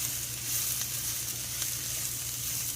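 Beef and veggie stir fry sizzles loudly in a pan while being stirred, a dense, even frying hiss with faint ticks of movement and no speech.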